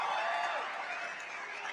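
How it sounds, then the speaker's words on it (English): Comedy show audience cheering and whooping in a brief, moderately loud burst of crowd noise, with no speech over it. "First and only cheer, by the way."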